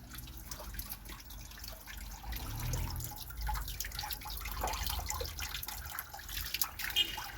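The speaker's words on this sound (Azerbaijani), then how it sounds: "Xan qızı bulağı adlanır bu bulaq." Spring water flows at the Khan's daughter spring in Shusha, a steady splashing and trickling stream with dripping, moderately near, heard alone with no voices.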